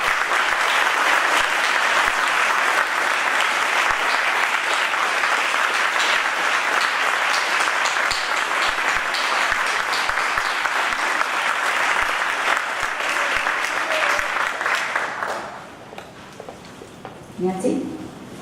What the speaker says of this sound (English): give them a round of applause in appreciation for all that they have done for these students